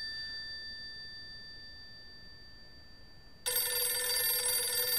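Telephone ringing in the horror video game Dark Ghost: a thin steady electronic tone lingers quietly, then a loud bright ringing bursts in and continues to the end.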